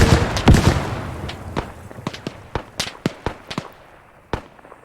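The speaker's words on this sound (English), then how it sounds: "There's a tank firing on you." A Patton tank fires during a battle in the video game ARMA 3, opening with a loud blast followed by a scattered string of sharp bangs and pops that fade as they thin out.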